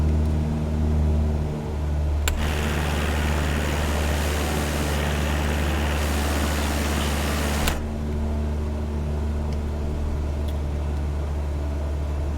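Cessna propeller engine in Microsoft Flight Simulator during touch-and-gos at KFFZ, a steady loud droning hum throughout, with a brief rise in roar partway through.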